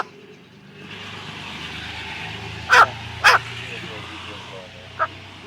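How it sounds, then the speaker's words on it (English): A dog gives a few sharp barks, two close together and a softer one later, heard outdoors over a steady background hum with a car nearby. "He's barking."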